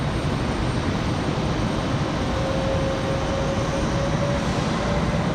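A Delta Connection regional jet taxis at Raleigh-Durham International Airport on a windy day, producing a loud, continuous engine roar and broadband rush with a faint steady whine rising through it, heard alone without voices.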